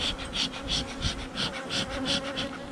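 A close, steady buzz of honeybees with a pulsing, wavering drone and no voices.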